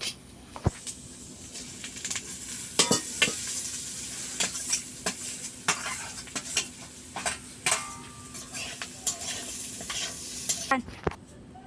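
Onions fry in a pan with a constant, close sizzle, broken by repeated sharp scrapes and clinks as a metal spoon stirs them in a village kitchen.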